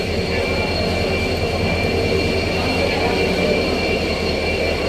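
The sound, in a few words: 9 to 10 coach railway train passing during CRS testing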